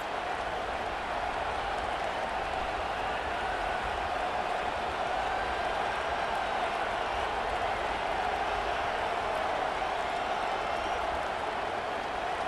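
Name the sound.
football stadium crowd cheering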